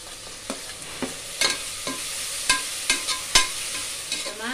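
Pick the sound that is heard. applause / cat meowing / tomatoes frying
tomatoes frying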